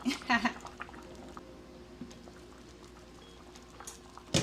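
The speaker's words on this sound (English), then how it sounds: "Just gonna let this come down to a boil, and it should be good, guys." Jamaican pumpkin soup comes to a boil in a pot, giving a low steady bubbling and patter. Short louder bursts of clatter mark the start and end, and faint background voices sit underneath.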